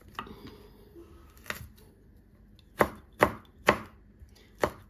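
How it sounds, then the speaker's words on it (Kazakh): A knife chops onion on a board in a home kitchen, a few soft cuts followed by four or five sharp, evenly spaced knocks, close and clear with no talking. "Пиязды да осылай деп турап аламыз."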